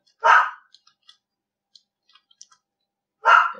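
A dog barks twice, once near the start and once at the end. Both barks are short and sharp, with light scattered clicking in the quiet gap between them.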